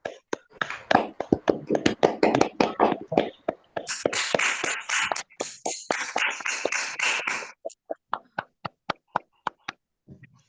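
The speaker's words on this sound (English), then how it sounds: "let's give Busisiwe a round of applause" An audience at a poetry collective event applauds, a dense burst of clapping that thins into scattered, isolated claps as it fades out.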